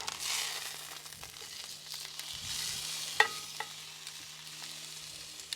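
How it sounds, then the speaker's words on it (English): Tri-tip searing on a grill at about 500 degrees, with a faint, steady hiss of sizzling fat and oil and a few small pops and crackles, heard close and without talking. "And so at searing temps, we're looking at about 500 degrees."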